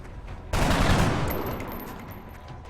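Burst of video game gunfire from flanking shots in XCOM, a sudden loud dense volley that starts abruptly and then rings out, fading slowly with echoing tail and faint high electronic tones.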